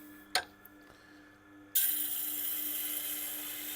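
A knife blade being ground on a sharpener at the fine setting to set a new bevel: a sharp click early on, then from midway a steady broadband grinding rasp that continues to the end, close and fairly loud.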